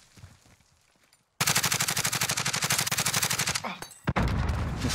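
Call of Duty Warzone gunfire: after a quiet start, a long rapid automatic burst of evenly spaced loud shots rattles for over two seconds, then a brief lull, a single sharp crack and another dense volley.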